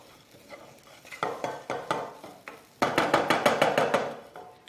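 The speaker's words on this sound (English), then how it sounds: "we're kind of like frying the rice." Rice is stirred and fried in a pan, with a quiet scraping that turns into a quick run of rhythmic utensil strokes against the metal, close by, over a light sizzle and with no talking.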